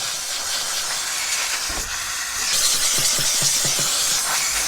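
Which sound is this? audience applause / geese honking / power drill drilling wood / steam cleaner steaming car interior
steam cleaner steaming car interior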